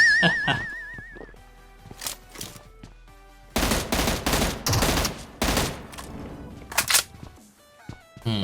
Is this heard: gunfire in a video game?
yes